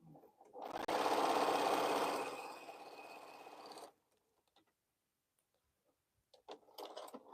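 A sewing machine runs a quilt seam in one steady, fairly close burst of about three seconds, its whirring stitches tapering slightly before stopping, followed by near silence and a few faint handling clicks.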